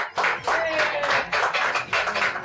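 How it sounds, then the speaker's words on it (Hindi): Dense, steady applause from a studio audience cheering for Shaan on a comedy show, a wash of many hands clapping at once that fills the whole stretch with a faint voice or two mixed in. "शान के लिए ढेर सारी तालियां।"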